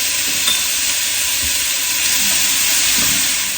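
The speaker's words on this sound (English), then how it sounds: "So in the pot went about a cup of carrots, a cup of celery, a cup of white onion, and about 3 or 4 cloves of garlic" Carrots, celery, white onion and garlic sizzle in a pot with a steady, close, loud hiss, broken now and then by soft stirring scrapes.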